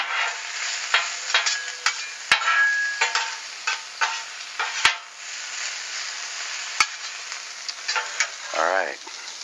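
Onions sizzle steadily on a flat-top grill while a metal spatula scrapes and taps the hot surface in irregular bursts, the frying hiss constant and close throughout.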